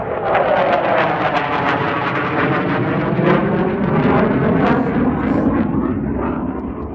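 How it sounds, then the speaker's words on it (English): F-18 fighter jets pass overhead with a loud, sustained broadband roar that holds steady for several seconds, rumbling and shifting slightly in pitch as the aircraft move through; no talk is heard. "Oh, y'all see the little F-18s? Whew, them things is gone"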